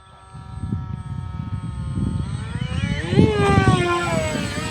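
An Arrows Prodigy 1.4m RC airplane flies overhead, its electric propeller motor giving a thin whining buzz that rises in pitch and grows louder as throttle increases, with faint wind noise underneath.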